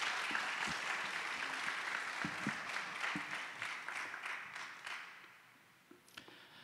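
A church congregation applauds in welcome as a missionary comes forward at a Sunday service, a dense wash of many hands that fades toward the end, leaving a few scattered late claps.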